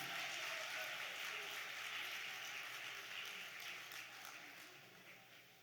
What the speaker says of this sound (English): Come on, give them young people a big round of applause, everybody.